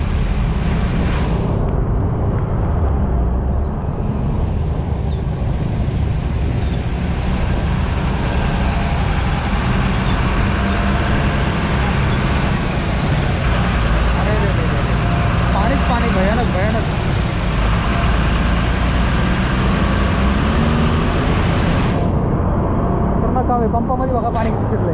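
Vehicles are jammed in traffic on a flooded road during heavy rain in Pune, giving a loud, continuous wash of engine rumble and splashing water throughout, with talk mixed in.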